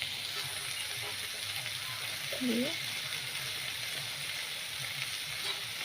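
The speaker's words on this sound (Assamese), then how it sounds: "এতিয়া অলপ সময় এনেকৈ ভাজি ল'ম" Dried fish curry with brinjal fries in a pan, a faint steady sizzle under a soft background hiss, with a brief voice-like sound in the middle.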